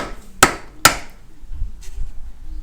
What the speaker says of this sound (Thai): ไม่มีตัวกดก็เอาซีนเก่า วางแล้วก็ทุบ ทุบลง